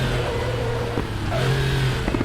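A Porsche 911 Carrera Classic's 3.6-litre, roughly 250-horsepower flat-six drones steadily in the RaceRoom racing game at Bilster Berg, its pitch shifting slightly as it pulls along, loud and close with no talk.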